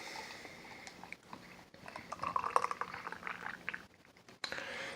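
Irish stout glugs and splashes into a small glass with a liquid pour, building to a louder foamy gush midway, then tapering off, close and fairly quiet.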